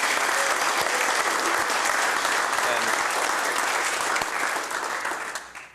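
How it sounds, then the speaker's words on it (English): Audience at a city council meeting breaks into full, steady applause that holds for several seconds and then tapers off as a voice begins to speak. "Let's show a round of applause as we get started."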